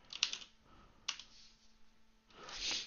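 A command being typed on a computer keyboard at a Windows command prompt: a few quiet, separate bursts of key clicks with pauses between them, close and alone.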